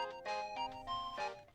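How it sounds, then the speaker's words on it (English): A phone rings in the Steins;Gate video game, a short electronic melodic ringtone of bright repeating tones heard alone. "Just then my phone rings."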